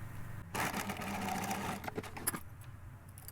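A sewing machine stitches a label into a felt hat with a fine 1 mm tuck, a short close burst of rapid needle chatter followed by a few taps and clicks as it stops.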